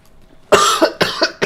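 A person coughs four times in quick succession, close and loud, each burst harsh and short with brief gaps between.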